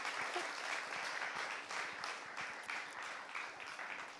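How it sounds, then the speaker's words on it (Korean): Audience applause at a Korean Buddhist monk's talk on health and diet, a steady dense patter of many hands clapping throughout, moderately loud with no voices. "박수 보내주세요"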